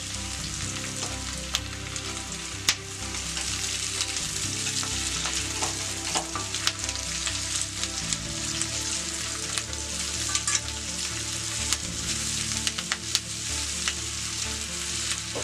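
Capsicum sizzles and fries in a hot pan while an egg chilli is being cooked, making a steady, close hiss with occasional stirring scrapes and light clinks throughout, and nobody talks.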